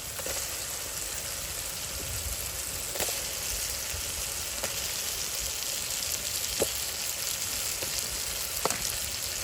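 Eggplant sautés in a pan with dried fish, giving a steady, even frying hiss at moderate level, with a few sharp clicks and pops scattered through it.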